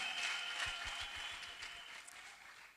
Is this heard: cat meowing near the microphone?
no